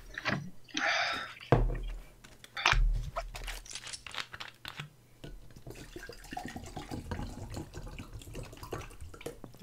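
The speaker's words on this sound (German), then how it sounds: "Dabei gieße ich mir nur Wasser irgendwo ein." Water pours into a container at a gaming desk, a close, splashy, uneven trickle with crackly bursts early on, then a softer steady stream with no talking.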